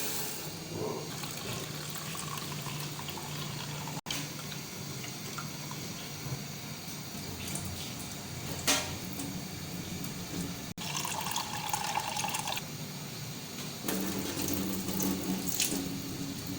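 Tap water runs steadily into a kitchen sink while pulses (daal) are washed for a daal and tomato dish, with the broad, splashy flow shifting in strength as the grains are rinsed by hand.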